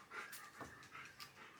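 A puppy panting close by, quick soft breathy huffs with a faint whimpery edge, quiet and alone without talking.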